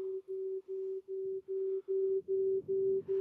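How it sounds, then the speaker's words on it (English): A pure steady electronic tone pulses in short, evenly spaced beeps, about nine in a row, with faint background noise underneath. "It's sine waves, pure sine waves, and it's microtones."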